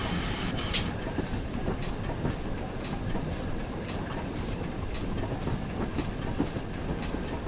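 GWR 9400 Pannier Tank steam locomotive running in Train Simulator Classic, heard as a steady low rumble with regular clickety-clack rail joints ticking past at an even pace, moderately quiet and without speech.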